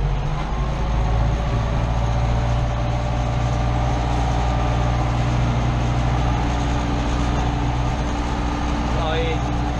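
An Ursus 1014 tractor engine drives in road second gear at about 1700 RPM, a steady deep diesel drone heard from the cab, with voices talking over it.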